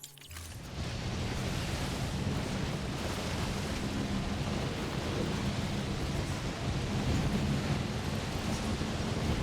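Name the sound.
thunderstorm with rain in the video game Death Stranding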